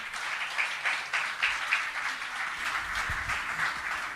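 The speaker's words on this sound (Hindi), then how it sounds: "जोरदार ताली हो जाएगी।" Audience applause at a Jain religious discourse gathering, a steady wash of clapping from a crowd held at an even level throughout, with no voices over it.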